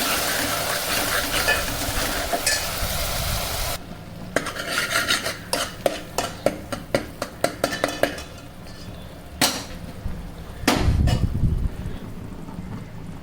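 Spice masala hitting hot oil in a pan for a mutton rassa, a steady loud sizzle, then scraping and stirring strokes and a few clatters of the utensil against the pot, close up with no talk.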